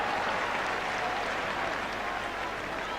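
A football crowd at Bloomfield Road roars and applauds steadily during a Blackpool versus Bolton Wanderers FA Cup first-round match, a dense, unbroken wash of cheering and clapping that fills the whole moment.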